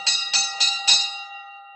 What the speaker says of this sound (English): Then he began ringing the bell.